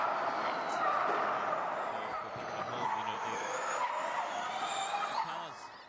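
Formula E electric race cars run on track at the London E-Prix during practice, a rising and fading whine and whoosh of passing cars with tyre noise, heard at a moderate distance over crowd and circuit ambience.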